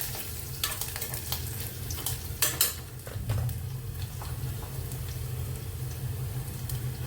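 Curry leaves dropped into hot oil in a home kitchen pan, a steady sizzle and crackle with a sharper burst of spattering midway, plus light clinks of a utensil against the pan.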